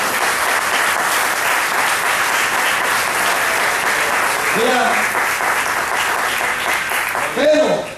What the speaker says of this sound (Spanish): ¿Cuánto aplauden al Señor?